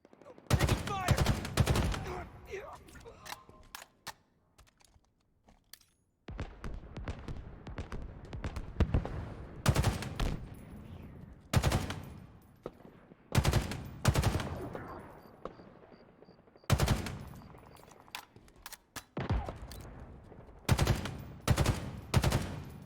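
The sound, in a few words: gunfire in the video game Halo Infinite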